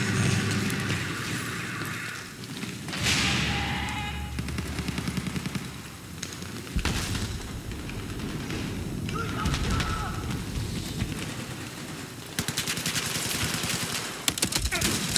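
Battlefield 4 combat on the Pearl Market map, with dense rapid machine gun bursts and a steady rattle of gunfire running throughout, loud and busy, mixed with game noise and occasional voices.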